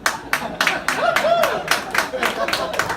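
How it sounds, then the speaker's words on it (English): An audience applauds at a stand-up comedy show, with quick, fairly near claps that last the whole stretch. A voice talks over the clapping. "applause break for that"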